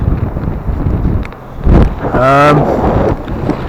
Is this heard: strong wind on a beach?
yes